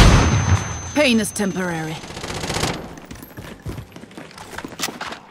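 Gunfire in Call of Duty: Modern Warfare Warzone on Rebirth Island: a brief in-game voice line, then a run of scattered sharp shots and clattering bursts at moderate loudness over a busy battle backdrop.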